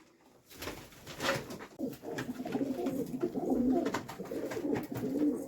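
Pigeons coo repeatedly in a low, throaty murmur, several birds close together, with a few sharper bird calls and rustles mixed in.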